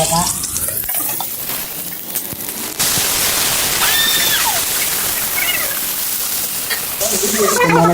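Cinnamon and cloves frying in hot oil in a kadai for chicken curry, a steady loud sizzle that jumps up partway through, with a brief high squeak and faint background sounds.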